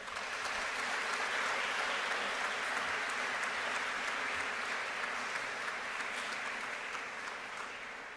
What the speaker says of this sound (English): Seniors, how about a round of applause for these folks showing up once again for you today?